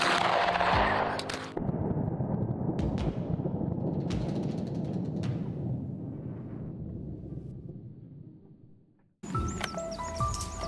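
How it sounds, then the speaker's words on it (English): Rifle shots crack out during a wild boar hunt in Siberia: a few sharp reports spread over several seconds, each trailing into a long rolling echo through open terrain. "The gunshots rang out, and one of the boars stumbled momentarily."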